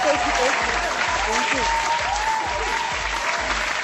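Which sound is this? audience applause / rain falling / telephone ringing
audience applause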